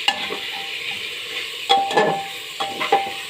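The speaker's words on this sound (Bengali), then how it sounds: "এবার আমি একটুখানি ভালো করে মিশিয়ে দিচ্ছি সবজির সাথে।" A spoon stirs lentils and vegetables frying in a pan, giving a steady sizzle beneath a few scraping, clattering strokes, close and clear.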